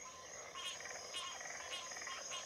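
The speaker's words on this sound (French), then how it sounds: "d'innombrables coassements en cascade qui se répondaient vinrent se joindre au tout premier" Dense chorus of frogs croaking together at a pond, repeated rhythmic trilling calls overlapping in even pulses, fairly faint and steady with no voices.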